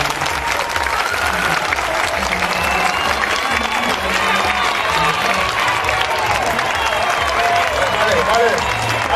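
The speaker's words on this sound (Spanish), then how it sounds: "aplausos." Sustained applause from a crowd at an interschool regional folk dance contest awards ceremony, dense and steady throughout with cheering and voices mixed in.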